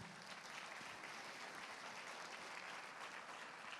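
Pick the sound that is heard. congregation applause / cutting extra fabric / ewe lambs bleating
congregation applause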